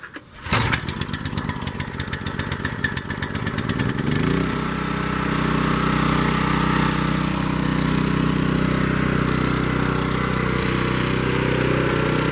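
A portable gas generator is pull-started with a few rapid sputtering cranks, then catches and settles into a loud, steady, close-up running drone.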